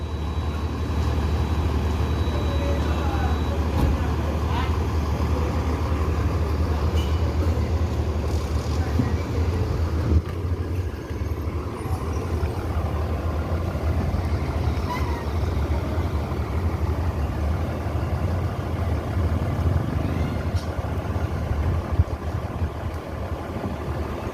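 An ANS intercity bus from West Sumatra pulls into a terminal, its engine giving a steady low diesel rumble that holds for the whole stretch amid outdoor bustle.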